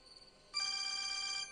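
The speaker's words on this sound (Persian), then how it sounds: "نجیب تلفن دارد" A telephone bell starts ringing partway through, a steady bright electronic trill that holds for about a second over quiet room tone.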